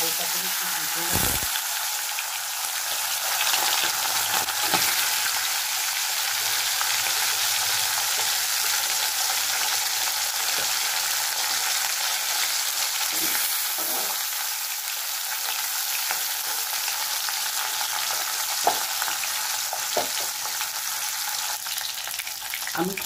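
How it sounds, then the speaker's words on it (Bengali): Tilapia fish frying in hot oil, a steady broadband sizzle that holds throughout at close range with occasional sharper pops and crackles, no voices. "মাছগুলো হালকা করে একটু ভেজে নেবো"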